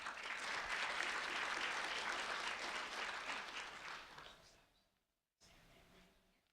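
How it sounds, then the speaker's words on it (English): Audience applause at a community recognition event honoring a high school sophomore, a full burst of many hands clapping that tapers off and fades, followed by a brief pause and faint room sound. "A round of applause for Tatiana Rangel,"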